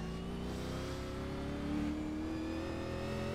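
A race car engine revs in the iRacing simulator at Southern National Motorsports Park, a steady droning tone that climbs in pitch and holds loud throughout.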